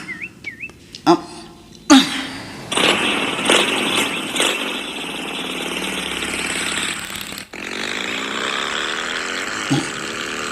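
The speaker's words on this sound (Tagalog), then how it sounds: "Pagandara kon ti motorsiklo." A motorcycle engine is kicked to life in an Ilocano drama scene, a loud burst followed by a steady running rumble that carries on for several seconds, with faint bird chirps in the background.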